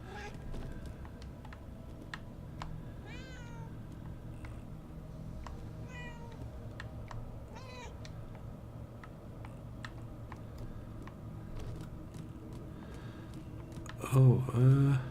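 A cat meows repeatedly in the video game Murdered: Soul Suspect, short mid-distance cries spaced over steady ambient game sound and low hum, with a louder burst near the end.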